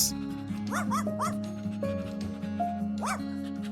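A small dog yips and barks in short bursts, a few quick barks then a single one later, over faint background hum.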